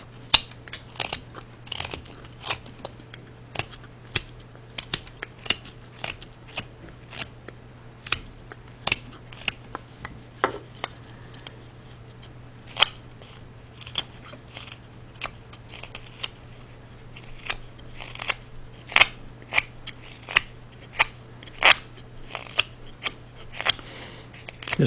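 A carving tool roughs out the back of a wooden love spoon, making sharp repeated cutting snicks about one or two per second, close and crisp over a low steady hum.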